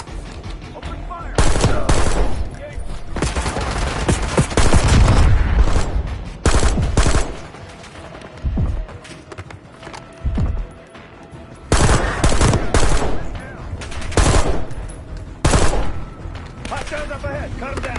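Heavy automatic gunfire from the Black Ops 6 video game, dense sustained bursts with loud volleys and short lulls, layered with booms, mechanical clatter and shouted voices throughout.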